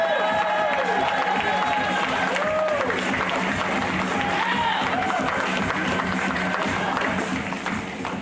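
A stand-up comedy crowd gives sustained applause, dense continuous clapping filling the room at even loudness for several seconds, with a few short cheers and whoops rising over it.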